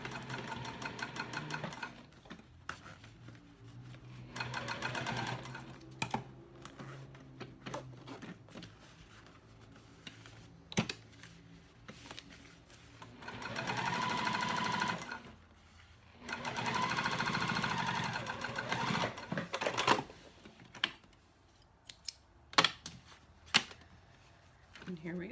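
A sewing machine top-stitches a cork or vinyl wristlet clutch in bursts of rapid, close mechanical whirring, separated by pauses and handling noises as the fabric is moved.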